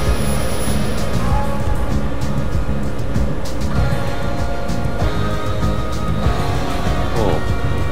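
A Bell 407 helicopter in the X-Plane 11 flight simulator gives a loud, steady turbine drone with a constant thrumming rotor rhythm throughout, heard close and without talk.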